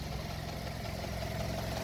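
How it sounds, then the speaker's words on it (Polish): A Mazda 6 with a 2.0-litre, 147 hp engine and a newly fitted LPG installation idles steadily, with a low, even hum and a faint, constant whine, with no voices. "Mazda 6 z dwulitrowym silnikiem."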